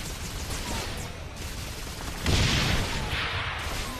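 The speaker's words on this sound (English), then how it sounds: "when one explodes, they both explode" Flying ships exploding in Saints Row IV amid constant dense battle noise, with a heavy roaring blast that swells near the middle and a second burst shortly after, both loud and close.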